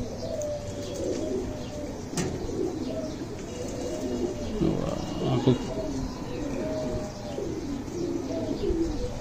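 Pigeons kept for flying, in Habiganj, Bangladesh, coo in a low, continuous murmur, with a sharp knock partway through and a voice speaking over the flock.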